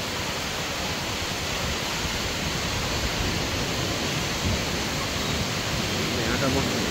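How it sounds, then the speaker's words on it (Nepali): Taram Khola river in Galkot rushing steadily, a dense, constant broadband roar of flowing water close by, even in level throughout with no pauses. "यो एकदम गलकोटको तरम खोला, एकदम प्रख्यात तरम खोला हो।"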